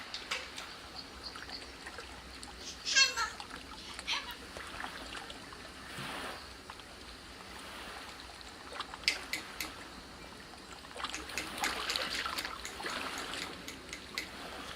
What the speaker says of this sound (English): I hear him splashing around me